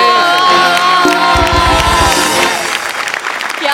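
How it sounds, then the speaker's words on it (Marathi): A comedy-show audience stands and claps together, with toy trumpets blaring over the applause in a loud, short burst that thins out toward the end. "उभा राहून टाळ्या वाजवतो."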